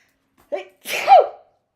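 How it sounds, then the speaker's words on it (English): One sneeze up close: a short sharp intake of breath followed by a loud, explosive burst, then silence. "And I'm going to sneeze."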